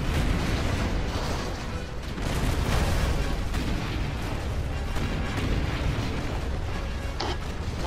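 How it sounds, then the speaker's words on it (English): Artillery in the strategy game Rise of the Reds fires continuously at civilian structures and a power plant, setting off dense, overlapping booms and blasts. The explosions form a loud, sustained wall of rumbling impacts with no talk. "And the other artilleries are firing at the civilian structure over here"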